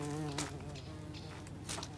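Bees buzzing around flowers nearby, a steady droning hum with a few louder passes, no talking.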